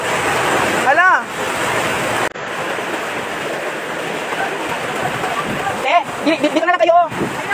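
Typhoon Paeng floodwater rushes over a highway in Zamboanga City with a loud, continuous roar, while people nearby talk and exclaim over it.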